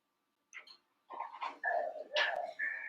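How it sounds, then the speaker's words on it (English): A pet dog plays nearby, giving a string of short whines, yips and huffs that come in bursts after a brief silence and grow louder and more vocal toward the end. "you hear my doggy is playing with something on the back"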